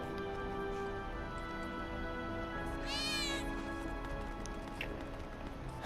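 A cat's meow in the video game Final Fantasy VII Remake, one rising-and-falling cry in the middle of the clip over a steady bed of game ambience and music.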